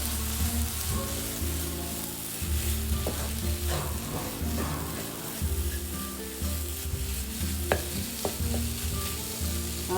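Finely chopped onion, ginger and garlic sizzle steadily in a hot pan while being stirred, with soft scraping and clinking from the utensil scattered through the continuous frying hiss.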